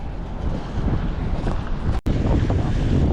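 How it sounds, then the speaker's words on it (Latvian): Strong sea wind roars steadily across the Mangaļsala pier, loud and continuous with a brief dropout midway, surf rumbling underneath and no voices. "Baigais vējš."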